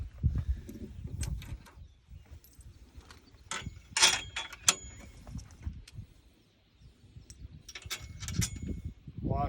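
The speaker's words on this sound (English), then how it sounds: "9/16 wrench, socket, and ratchet." A socket wrench with a ratchet tightens a 9/16 nut over a washer and lock washer on a bolt, giving several short bursts of clicking and clanking, close by, with a quiet gap in the middle.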